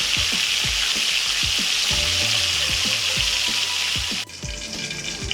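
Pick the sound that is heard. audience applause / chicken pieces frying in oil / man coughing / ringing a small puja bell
chicken pieces frying in oil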